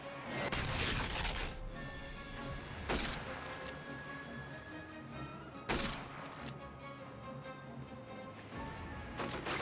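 Grenade airbursts in the video game From Russia With Love: several sharp, loud blasts at intervals, each rising out of a steady wash of in-game noise and rumble.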